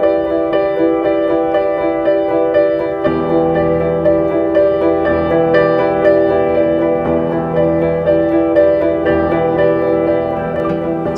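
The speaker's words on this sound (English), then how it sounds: "I found this lovely piano melody and rhythm from this ingredients pack in Arcade" Piano melody with a steady rhythmic accompaniment from an Arcade ingredients pack, in a music studio, playing loud and continuous with dense harmonic chords, a fuller low layer entering after about three seconds.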